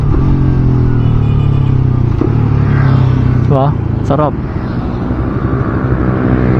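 A motorcycle engine drones loudly up close, with a couple of quick rev blips as it downshifts; someone speaks briefly over it.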